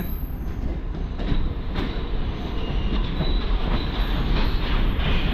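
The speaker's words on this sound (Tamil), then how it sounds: "வியாசர்பாடி ஜீவாலேருந்தும் இப்போ ட்ரெயின் ஸ்டார்ட் ஆயிடுச்சுங்க" A Chennai MEMU suburban train departing Vyasarpadi Jeeva station rolls along with a steady heavy rumble, wheels clattering and faint squeals over the rails, close and continuous without talk.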